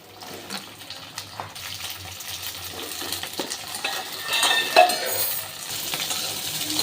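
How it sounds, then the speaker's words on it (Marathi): Okra pieces drop into hot oil in a pan, giving a low sizzle with scattered clinks and stirring scrapes that swell slightly toward the end, fairly quiet and without talk. "तेल गरम झालं आहे, त्यामध्ये भेंडी टाकून घेऊ"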